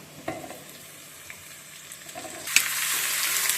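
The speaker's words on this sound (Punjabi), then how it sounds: "ਹੁਣ ਇਹ ਚ ਪਿਆਜ਼ ਪਾਵਾਂਗੇ ਜਿਹੜੇ ਲੰਬਾ ਲੰਬਾ ਕੱਟਿਆ ਸੀ ਆਪਾਂ" Long-cut sliced onions dropped into a hot pan for baingan bharta, a faint quiet sizzle that swells into a louder, steady frying hiss after they go in.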